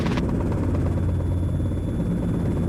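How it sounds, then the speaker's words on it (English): Helicopter in flight over a lake during a sightseeing trip, its rotor and engine giving a loud, steady throbbing drone heard from inside the cabin, with no voices over it. "So right here is when I start pulling up on the collective, because you feel how it's vibrating a little bit, Mark?"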